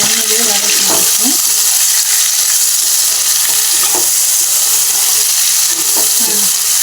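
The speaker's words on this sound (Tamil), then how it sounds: "இதை நல்லா இந்த எண்ணெயிலே வதக்கிடுவோம்." Bitter gourd sautéing in hot oil in an Andhra-style pan fry, a steady loud sizzle with occasional stirring scrapes throughout.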